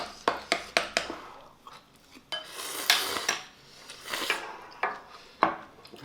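Utensils clatter and scrape against a pot as extra spicy ramyun with silk tofu is broken up and mixed, with sharp repeated clinks at first, then rubbing, stirring strokes, close and fairly loud with no talk.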